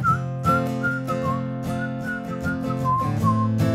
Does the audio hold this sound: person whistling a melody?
yes